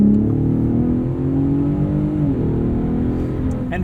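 Engine of a 2021 Ford F-150 Raptor with the 37 Performance Package accelerating on a dirt road, heard from inside the cab: a loud, rising sporty growl that holds strong throughout, with no voices.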